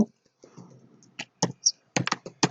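Arduino code is typed on a computer keyboard: sharp, close keystrokes in irregular clusters, with a faint murmur of voice early on.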